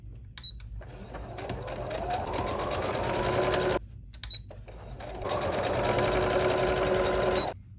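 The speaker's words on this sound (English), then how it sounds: "I'm just going to sew really close to the other line like so" A sewing machine stitches along a neckline facing in two loud, steady runs of rapid whirring, with a short pause between them.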